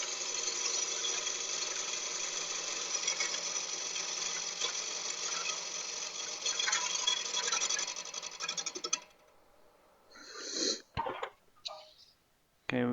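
Wood lathe turning a cracked rock maple hollow form at about 680 RPM, a steady close whirring hum with a cutting rasp that runs for most of the stretch before stopping abruptly, followed by a few brief scrapes.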